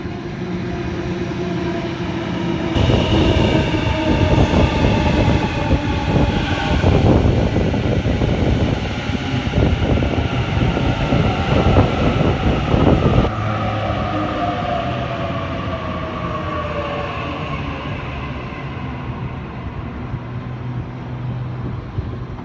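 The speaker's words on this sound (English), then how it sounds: "Series 1 Waratah set A33 now departing platform 2, Edmondson only service." A Sydney Series 1 Waratah electric train departs the platform at Edmondson Park station, its broadband rumble and whir building loudly for several seconds, then easing into a steady hum with rising motor tones.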